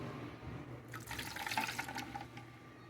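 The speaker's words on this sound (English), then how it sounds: "Now you need half a cup of the strawberry cream coconut and strawberry drink." Half a cup of pink strawberry cream coconut drink poured into a cup, a short liquid splashing and filling sound starting about a third in and lasting roughly a second and a half, close, with no talking.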